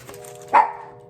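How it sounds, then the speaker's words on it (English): A single dog bark, short and sharp, fairly close but not loud, with only a faint hum and quiet room noise around it. "Can you tell your dog to be quiet?"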